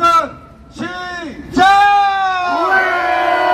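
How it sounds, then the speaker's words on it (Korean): Protest crowd outside the Hannam-dong presidential residence shouting and cheering together in several loud, sustained bursts of massed voices, close and swelling, with a strong final roar that holds to the end. "함성 3초간"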